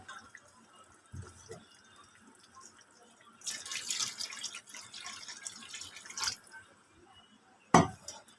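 Water poured from a tap into a cooking pan for a thin live-fish curry with potatoes, coming in a few splashing bursts of pouring and dripping, close and fairly quiet.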